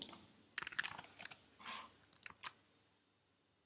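Quick bursts of keystrokes on a computer keyboard, close and faint, with short pauses between clusters of clicks.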